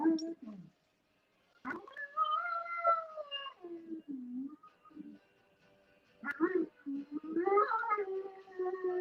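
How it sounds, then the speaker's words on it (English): A dog howls and yowls in long, wavering cries with short breaks, close and fairly loud, in an otherwise quiet room. "My dog's insane."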